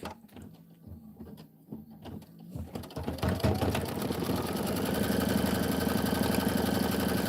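An embroidery sewing machine runs a satin stitch, starting with slower, uneven mechanical clatter, then ramping up into a dense, loud, continuous whirring buzz that holds steady up close.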